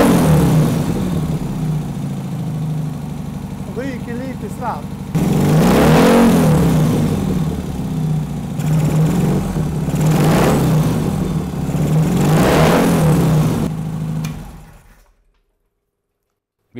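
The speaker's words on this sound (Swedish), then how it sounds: "det känns ju att han svarar på gasen nu ordentligt" An old car engine in a garage, its carburetor needle freshly adjusted, revs up sharply several times from a steady idle, loud and close, then cuts off into silence at the end.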